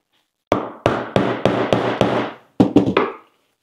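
Forged carbon fiber is knocked and pried out of a 3D printed mold, a series of about nine sharp, ringing knocks close up, six evenly spaced then a quick cluster of three, with silence between.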